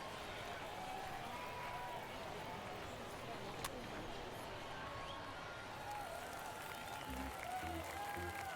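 A stadium crowd in the MLB The Show 22 baseball game, during a Puerto Rican winter league matchup between Caguas and Mayaguez, keeps up a steady roar and cheering throughout, with faint commentary-like talk mixed in.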